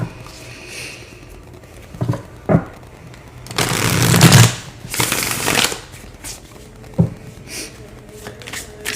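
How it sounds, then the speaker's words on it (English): Tarot cards are shuffled by hand and pulled from the deck, with a loud riffling burst at close range lasting around a second, surrounded by lighter taps and soft card handling. "I'm going to pull some cards now."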